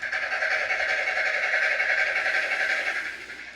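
A DCC model steam locomotive with a Loksound 50334 sound decoder produces a steady chuffing, hissing drone through a small speaker, close and fairly even, fading slightly at the end.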